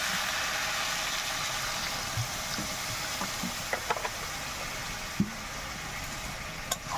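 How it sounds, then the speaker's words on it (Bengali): Steady sizzle of a pan of spiced Malabar spinach greens cooking with pumpkin and fish head, with a few sharp clicks and scrapes of stirring over the constant frying hiss; no voices. "এবার কষা হয়ে গেছে, জল দিয়ে দেবো।"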